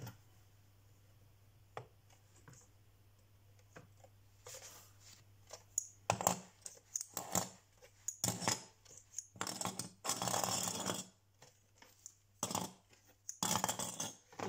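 Surplus paper being cut away with a cutter, starting with quiet faint ticks, then a run of sharp close scraping slices and crisp rustling bursts in irregular strokes, with no talk.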